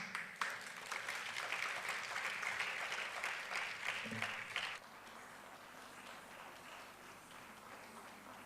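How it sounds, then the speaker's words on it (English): An audience claps warmly for a speaker at an arts gathering of poetry, music, dance and art. Dense, steady applause fills the first half, then stops abruptly, leaving faint room noise. "Please give a warm round of applause to Mr. Jivesh Ognu."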